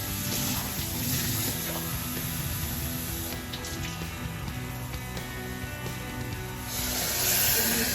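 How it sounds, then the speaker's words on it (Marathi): Water is poured into a pot of rajma (kidney beans) seasoned with coriander, making a steady hissing, splashing stream that runs continuously throughout at close range with no talking over it. "आता आपण ह्याच्यामध्ये पाणी ओततोय जितकं आपल्याला पाहिजे तितकं"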